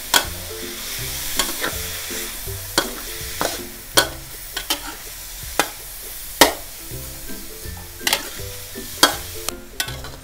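Pork stir-fries in a pan with a splash of water, a steady sizzle under repeated sharp scrapes and knocks of a spatula against the pan, close and rhythmic, with no voices.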